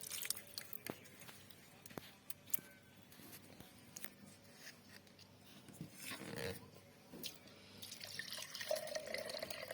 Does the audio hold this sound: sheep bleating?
no